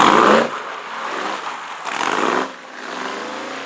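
A Shelby Cobra sports car engine roars while driving, loud and close, swelling through revs and easing off with shifting throttle.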